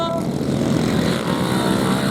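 Twin-engined race car with a loud, rough engine roar that rumbles continuously at close range and stays dense throughout.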